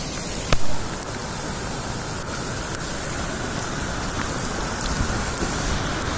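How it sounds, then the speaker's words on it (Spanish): Heavy rain pours steadily during a storm in Santa Fe, a dense, unbroken hiss of drops hammering surfaces, with one brief louder knock near the start and no talk. "Ah, impresionante como llueve."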